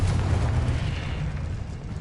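Explosive Confringo spell blast in Hogwarts Legacy, a dense low booming rumble that swells and holds steady for about two seconds, heavy and close with a slowly fading tail.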